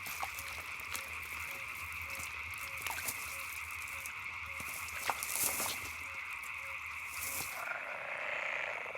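Frogs croak in a marshland in the Upper Rhine Valley, a dense chorus of repeated rhythmic calls over a steady high insect-like drone, continuous and moderately distant.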